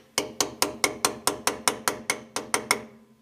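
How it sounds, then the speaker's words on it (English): A ratchet wrench is swung as a hammer to beat a differential cover onto a 1968 Chevelle rear end, giving eleven sharp, evenly spaced metallic strikes, loud and close with short ringing decay, and no talk. "Have to beat her on with my ratchet."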